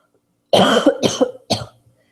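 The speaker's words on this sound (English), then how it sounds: "Sorry, my coughing." Three close, sharp coughs in a quick sequence, the first longest, then silence.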